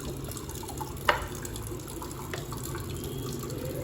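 Water poured into churned homemade butter, a steady soft liquid wash with a single sharp knock partway through.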